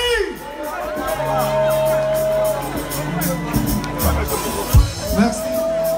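A concert crowd at the Palais de la Culture cheers and shouts loudly, many voices overlapping in a lively roar with whoops rising above it.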